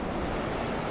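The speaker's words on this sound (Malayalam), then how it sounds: "പക്ഷെ എന്നാലും തിരയുണ്ടല്ലോ." Gentle sea waves wash onto a clean Lakshadweep beach, heard as a steady, close hiss of surf with a light wind rumble for just under a second.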